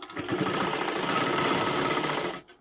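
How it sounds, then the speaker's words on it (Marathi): An electric sewing machine stitches a blouse seam in one steady, fast, close-up whirring run with rapid mechanical chatter, stopping abruptly near the end. "इथे शिलाई मारून घ्या, इथे पूर्ण बंद करून घ्या"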